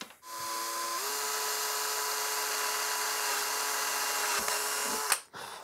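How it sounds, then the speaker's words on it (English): A power drill bores into a plastic toy prop, a steady high-pitched whine holding for about four seconds after a brief spin-up, then stopping with a couple of short clicks and handling noises. "I'm gonna drill and tap those so we can screw it in."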